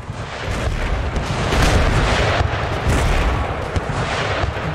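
Naval cannon battery firing in Empire: Total War during a sea battle, a dense rumbling barrage of overlapping booms that stays loud and continuous throughout.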